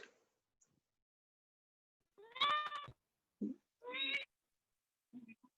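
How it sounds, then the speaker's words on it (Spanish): A cat meows clearly in a quiet room, giving two drawn-out meows close together with a few softer murmuring sounds between and after them. "No le pellizques al pobre gato."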